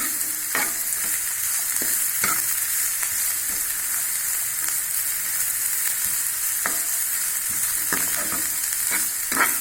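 Bitter gourd fries in hot oil for podi, giving a steady bright sizzle throughout, with occasional soft stirring clicks and pops.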